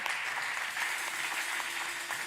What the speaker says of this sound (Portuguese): estão com uma linda salva de palmas